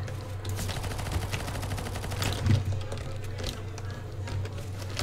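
Counter-Strike: Global Offensive gunfire: rapid automatic bursts rattle continuously in close, dense volleys, with a louder cluster midway.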